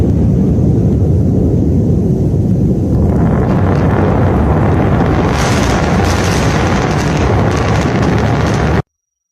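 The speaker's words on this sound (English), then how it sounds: "Double sonic booms." A double sonic boom: a deep, loud, continuous rumble that swells and brightens partway through and rolls on steadily before cutting off abruptly.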